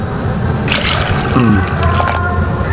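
Water being poured, a continuous loud gushing and splashing that fills the whole stretch at close range, with faint voices in the background.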